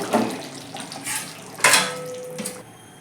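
A lid clatters onto a metal pot of thin chicken curry with potato and papaya, sitting on a switched-off stove, giving several close metallic clinks and scrapes with one sharper clang in the middle.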